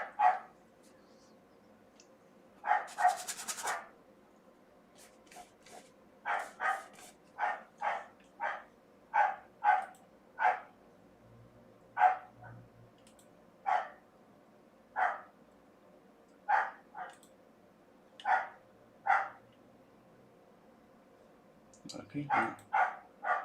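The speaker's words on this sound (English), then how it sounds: "Let's wait a minute for my dog to stop barking." A dog barking indoors, short sharp barks, mostly single and some in quick pairs, repeated at irregular intervals over about twenty seconds, moderately distant against a quiet room.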